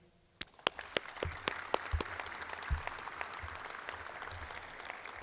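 Applause breaking out for coaches at a women's basketball coach introduction event, starting with a few sharp, distinct claps that swell into a fuller, steady round from the room.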